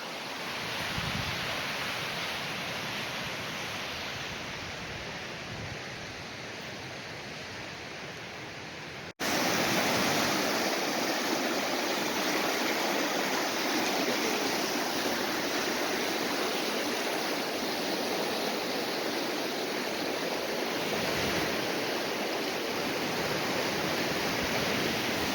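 4 Mile Creek running hard and fast after rain, a broad steady rushing roar of water, close and continuous, getting louder and fuller partway through.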